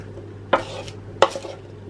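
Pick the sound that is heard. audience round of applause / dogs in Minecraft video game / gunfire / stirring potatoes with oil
stirring potatoes with oil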